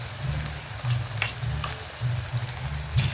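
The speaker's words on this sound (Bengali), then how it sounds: "দশ মিনিটের মধ্যে আমার পকোড়া কমপ্লিট হয়ে যাবে ভেজে।" Chicken pakoras deep-fry in hot oil with a busy, crackling sizzle that holds steady throughout, bubbling close and loud with no voices.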